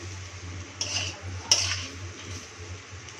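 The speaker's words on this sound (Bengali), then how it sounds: "এবার এটাতে পাস্তা দেব। এটা ভালো করে আমি একটু নাড়াচাড়া করে মিশিয়ে নিই।" Pasta being stirred and mixed in a pan, with a spoon scraping and clinking against the metal twice over a quiet background of soft sizzling.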